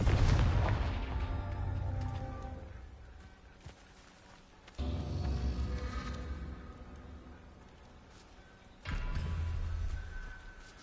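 Confringo fire-blast spells in the Hogwarts Legacy video game: three separate booming bursts, each a sudden loud onset trailing into a rumbling decay, fairly close, with no talking.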